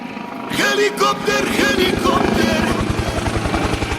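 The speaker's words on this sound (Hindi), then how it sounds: "गाइस देखो हेलीकॉप्टर," A helicopter's steady rhythmic rotor thumping fills the scene in Mumbai, loud and close overhead, with voices and background chatter over it.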